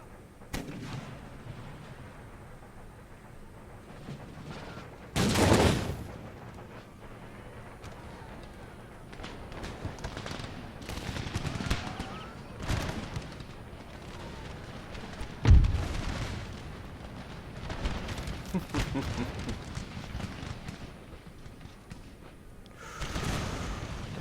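Musket volleys and cannon fire from a battle in the strategy game Empire: Total War, with a few sharp, loud bursts standing out over a continuous rumble of distant gunfire and battle noise.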